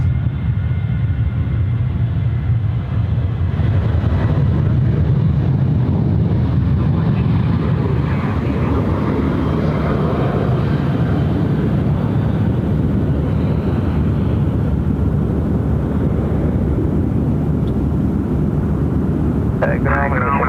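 A Toll Freight Boeing 737-800 takes off from Sydney Airport on an evening flight to Melbourne, its jet engines producing a steady, loud low roar that holds through the whole stretch, with wind buffeting the microphone.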